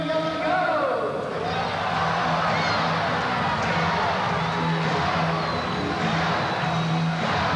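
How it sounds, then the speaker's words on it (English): Indoor soccer arena crowd at a 1990 Comets vs Sockers match, a steady roar of cheering and shouting with an announcer talking over it throughout. "Crowd begins to get into it now."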